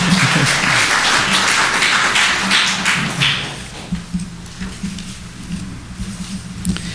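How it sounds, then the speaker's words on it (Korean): A church congregation claps loudly in welcome of visitors during a service, dense applause that fades after about three seconds into lighter scattered claps and taps. "여러분 큰 박수로 환영하시겠습니다"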